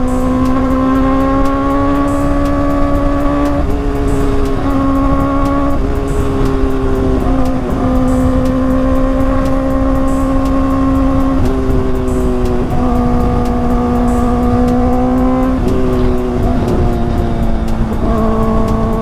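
A loaded Honda Click 125 scooter engine drones steadily and loudly while riding, its pitch stepping up and down through shifts in speed, close and continuous with no talk.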